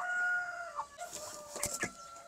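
A young rooster of about three months and a pullet, with a short crow and a few clucks nearby over a quiet farmyard background, and no talking.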